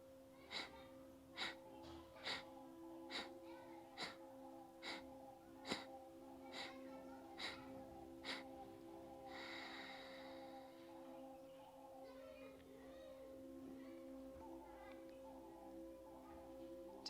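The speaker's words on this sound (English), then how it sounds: "Taking the breath, exhaling everything out of the body" Forceful, rhythmic kapalbhati pranayama breathing: about a dozen sharp, evenly spaced exhale bursts over a steady hum, followed by a longer drawn breath and then quieter, calmer breathing.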